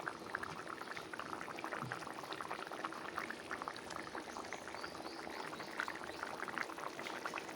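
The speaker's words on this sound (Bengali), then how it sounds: "দেখো তরকারিটা আমার এখন" A pot of light pabda fish curry with green chillies bubbles on the stove, a continuous soft gurgle and pop of simmering broth, quiet and steady throughout.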